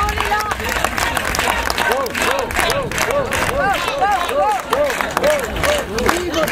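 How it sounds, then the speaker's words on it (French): An audience applauds at a live French comedy show, a steady, fairly loud patter of clapping that runs throughout with voices calling over it. "Coco, on l'applaudit."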